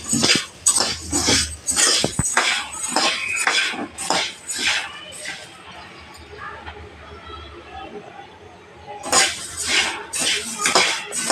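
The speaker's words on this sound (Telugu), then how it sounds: "కొంచెము వేడైనాక ధనియాలు వేసుకుందామండి" Coriander seeds roast in a hot pan as homemade masala is prepared, making close, busy rattling and scraping clatter that pauses briefly and then returns, with a voice now and then.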